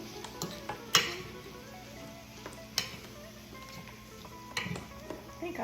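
Turkey being stirred in barbecue sauce in a pan, with soft scraping and clinks of a utensil against the pan over a faint sizzle, a few sharper knocks standing out.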